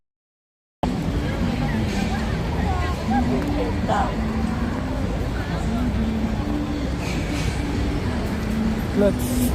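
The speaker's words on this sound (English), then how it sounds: "Shibuya is so noisy." Busy street noise at Shibuya Crossing in Tokyo: a steady dense roar of traffic and crowd babble, with occasional passing vehicles, constant and fairly loud throughout after a brief silent start.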